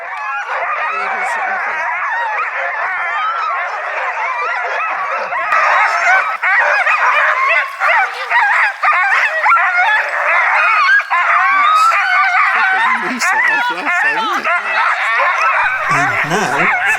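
Excited sled dogs bark and yelp in chorus in an Arctic dog yard, a loud, dense and continuous clamour of many overlapping voices close by that keeps building.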